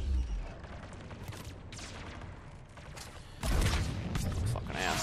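Two Geth Prime enemies firing at the player in Mass Effect 3, a steady crackle of weapon fire and thumps under busy game noise, swelling louder in the final seconds.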